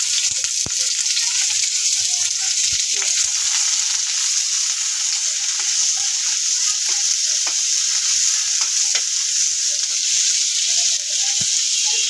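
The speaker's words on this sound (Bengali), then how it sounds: "মরিচটি ভেজে নিব, সাথে পেঁয়াজগুলো ভেজে নিব।" Chili and onions fry in hot oil, producing a loud, continuous close-up sizzle with scattered crackles and occasional light stirring taps throughout.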